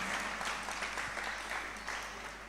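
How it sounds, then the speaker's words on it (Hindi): An audience at a devotional gathering applauds steadily to welcome a couple, a dense wash of clapping that slowly fades. "एक बार जोरदार ताली बजा के इनका स्वागत करें।"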